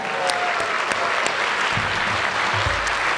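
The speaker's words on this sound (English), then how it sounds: "give a nice standing ovation and clap really loud and hard for Principal Ramirez" Loud, dense applause from a school audience giving a standing ovation for the principal, steady and close throughout, with a few low thumps near the end.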